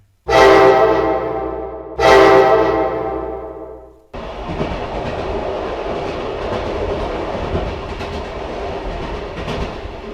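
A train rumbles steadily along the rails, preceded by two long, loud blasts of its horn; the rolling clatter continues close by with no voices, as it departs the station bound for Williams.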